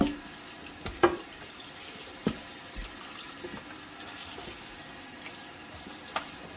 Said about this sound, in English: give the turkey a nice little rinse. Whew, that's a little hot there. With some cool water.